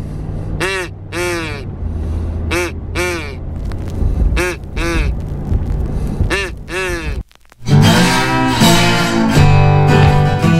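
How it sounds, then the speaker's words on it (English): A child blows a duck call, producing a run of short, loud, nasal quacks in quick bursts, followed by a sudden burst of harsh, loud noise near the end. "Henry has decided to get my duck call. Get a little practice in this morning"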